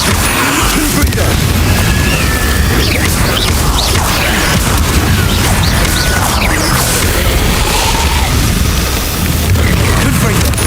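Confringo blast spells in Hogwarts Legacy exploding in repeated booms and crashes amid constant dense combat noise, loud and close, with a voice speaking over the fighting.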